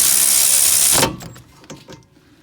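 Channel-lock pliers work on a rear brake caliper bolt of a 9th-generation Honda Civic Si: a loud burst of broad noise gives way to a few sharp, close metallic clicks and scrapes.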